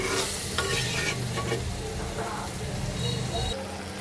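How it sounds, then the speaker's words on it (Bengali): Potato and cauliflower with spices stir-fried in hot oil, a continuous close sizzle with scraping stirring strokes throughout, loud and steady for the whole stretch. "এখন আমি সবকিছু একসাথে সুন্দর করে কিছুটা সময় ভাজাভাজি করব।"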